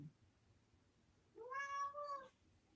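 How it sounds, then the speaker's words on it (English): A single drawn-out cat meow, faint and somewhat distant, rising then falling over a quiet background hum. "Was that your cat?"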